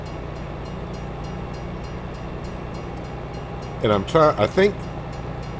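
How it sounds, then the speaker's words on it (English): A train in Farm Sim 22 rumbles by with a steady rolling roar and rail clatter, while a voice briefly speaks over it near the end. "I think this train loops around so quick."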